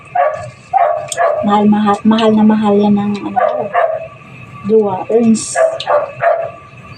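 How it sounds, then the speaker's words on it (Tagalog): Several pet dogs barking and yipping in a noisy household, a repeated run of short harmonic barks and whimpers mixed under ongoing conversational speech. "sobrang ingay ng mga aso namin"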